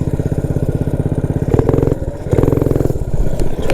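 A Motovox minibike with a Predator 212 engine revs hard at speed, a loud, close, steady buzzing drone that climbs and surges in pitch through the ride, with no talking.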